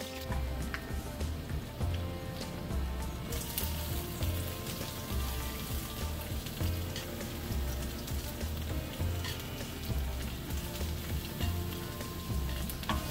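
Garlic and onion pieces sizzle and fry in hot cooking oil with four dried red chillies, a steady, dense crackle that runs close and continuous with no talking.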